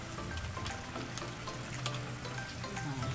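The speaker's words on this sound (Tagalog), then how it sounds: "Para habang kumukulo siya dun sa tinakang mga pampalasa, nanunot na dun sa mga laman ng itik" Duck kaldereta simmers in a pot with spices, giving a soft, continuous bubbling sizzle with a few faint clicks on top, steady and fairly quiet, with no voices.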